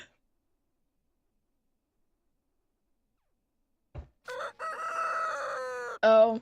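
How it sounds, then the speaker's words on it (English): A rooster crows in the Twisted Wonderland video game, a long, loud, close cock-a-doodle-doo after several seconds of silence, with a brief thump before it and a sharp extra squawk at the end. "Cock-a-doodle-doo."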